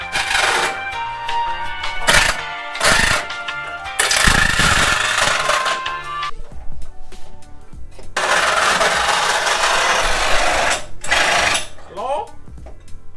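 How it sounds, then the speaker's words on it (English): A drill bores through the metal body of a Miata to route a turbo pipe, a loud, close whine coming in several bursts with pauses between, with grinding and rattling metal in between. "And we are gonna drill right through here."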